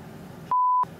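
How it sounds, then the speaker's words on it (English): Aircraft cockpit warning alarm sounding during takeoff, a single steady electronic beep of about a third of a second, loud and close, cutting sharply through the background cabin noise. "Note the warning lights and alarms as we become airborne"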